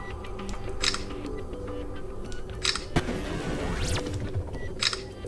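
Several short Samsung Galaxy S22 Ultra phone camera shutter clicks, spaced apart, each sharp and close, over faint background hum.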